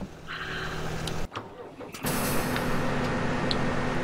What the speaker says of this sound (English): let's just go ahead and start our sprayer